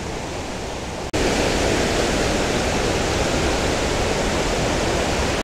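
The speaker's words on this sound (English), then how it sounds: "you can hear the waterfall. It is astounding how loud water can be." Big Wesser Falls in the North Carolina mountains roars as a loud, steady wall of rushing water, jumping sharply louder after the first second and holding constant until the end.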